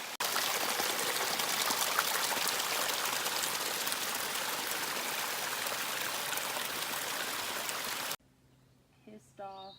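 A mountain stream flows steadily at a campsite water source along the Beech Gap and Hyatt Ridge trails, a broad, loud, continuous rush of water that cuts off abruptly near the end, leaving a faint voice-like sound.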